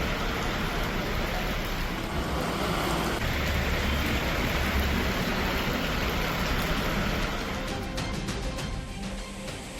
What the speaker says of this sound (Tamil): ராணிப்பேட்டை மற்றும் சுற்றியுள்ள பகுதிகளில் பலத்த காற்றுடன் கூடிய கனமழை பெய்தது.